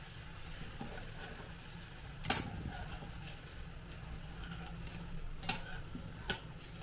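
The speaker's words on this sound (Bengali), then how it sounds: "কিছুক্ষণ নাড়াচাড়া করে ভেজে নিচ্ছি।" Bitter gourd slices fry in hot oil, a low steady sizzle broken by a few sharp clinks and scrapes as they are stirred, close and quiet, with no talk.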